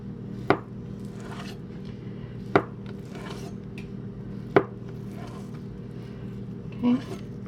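Knife cutting Spam into cubes on a board, three distinct, evenly spaced sharp chops with quiet pauses between them over a low background hum, and a person talks nearby.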